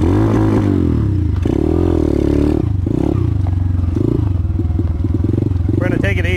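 A DB Tao pit bike engine revving hard during a ride, a loud, rough buzzing drone that rises and falls in pitch throughout, with a voice talking over it.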